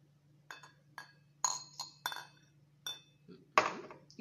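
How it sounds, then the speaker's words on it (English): Glass objects being handled in a classroom science lesson, giving a handful of light, separate clinks and taps spaced about half a second apart, then a louder clattering knock at the end, quiet and close. "We have glass."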